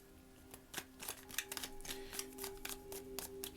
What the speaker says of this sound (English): Last shuffle for Aries.